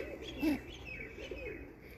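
Pigeons coo softly at close range in a few low, rolling phrases, one slightly louder coo standing out early, over a quiet, steady background hum.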